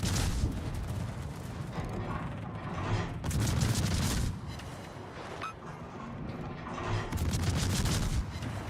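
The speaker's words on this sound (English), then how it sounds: "Enemy destroyer blown up." Enemy destroyer exploding in a naval warship video game during a tournament match, with dense rumbling blasts and booming gunfire in repeated loud bursts over a constant battle din.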